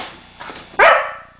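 Daisy the dog gives one sharp, loud bark on command, close by, after a brief quiet lead-in with a faint whimper-like sound.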